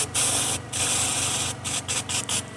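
A DIY spray foam gun sprays insulation onto a shed in loud hissing bursts, with brief pauses between sprays and sputtering near the end, close by with no talk.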